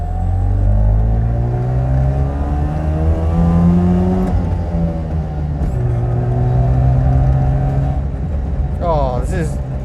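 A 1974 Daihatsu Fellow Max two-stroke kei car drives close up with a loud buzzing engine that climbs in pitch, drops sharply at gear changes and climbs again, while a voice talks over it.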